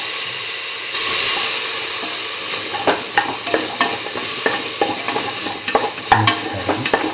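Potato pieces being stirred in a frying pan: loud, close sizzling runs continuously while a utensil scrapes and taps repeatedly against the pan, with no talking.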